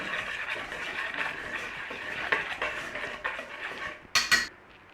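Flour, baking soda and baking powder being mixed in a bowl with a utensil, light scraping and clinking against the bowl, then a few sharp metallic taps near the end, close and fairly quiet, no voices.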